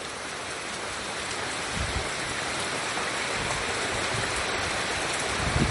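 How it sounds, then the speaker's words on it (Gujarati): Rain pouring on a dark hillside, a dense, steady rushing hiss with occasional low thumps and no voices. "વરસાદ શરૂ થયો છે"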